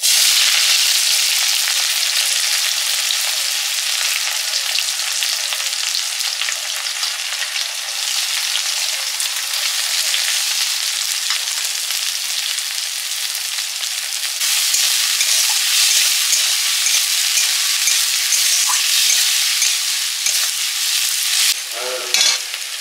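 Onions frying in hot oil for chicken do pyaza, with a loud, steady sizzle and occasional stirring that runs continuously throughout.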